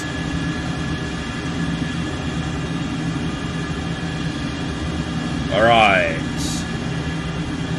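Steady roaring drone of an F-14 Tomcat jet engine in a flight simulator, cruising at high speed without afterburner, loud and constant, with someone briefly speaking over it.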